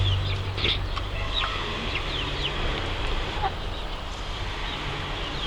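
Two-and-a-half-month-old Gurk chicks, a mix of young hens and roosters, make faint chirps and clucks over a steady wash of background noise.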